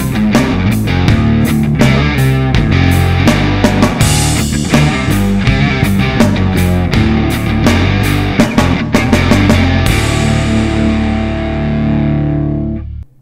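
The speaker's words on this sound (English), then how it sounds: "So if, for instance, I would play this guitar riff" Distorted electric guitar plays a dense, loud riff through an effects unit, with steady rhythmic chugging and accented hits, ringing out at the end.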